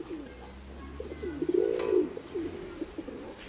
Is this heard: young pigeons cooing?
yes